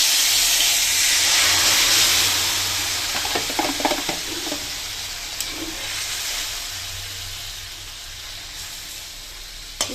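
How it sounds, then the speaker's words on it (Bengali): Nigella seeds hitting hot, smoking mustard oil in a kadai, a loud hissing sizzle that swells early, then settles into a quieter steady frying with a few stirring clatters. "কড়াই সর্ষের তেল গরম হয়ে গেছে, দিয়ে দিলাম কালো জিরে ফোড়নে।"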